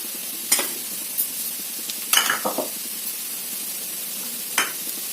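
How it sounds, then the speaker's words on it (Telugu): Radish pieces fry with turmeric in a pan over high flame, a soft steady sizzle punctuated by a few sharp scrapes and stirring clatters of a utensil against the pan, close and without talk. "బాగా కలర్ వచ్చే వరకు వేయించేసుకుందాం"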